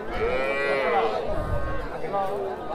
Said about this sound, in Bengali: সবই হচ্ছে বাছুর গরু।